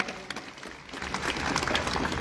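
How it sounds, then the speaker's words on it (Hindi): Audience applause welcoming the village head onto the stage at a Chaudhary Charan Singh birth anniversary function in Barmer, steady clapping that builds toward the end. "जोरदार तालियों से प्रधान जी का स्वागत और अभिनंदन।"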